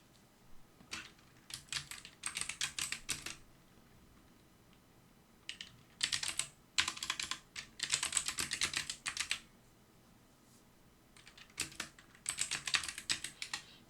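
Bursts of typing on a computer keyboard while entering a name into an Excel spreadsheet, close and crisp, in three clusters of rapid keystrokes separated by short pauses, with no speech.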